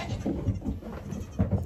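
Goats bleating close by in a short burst of overlapping calls, fairly quiet, with no talking.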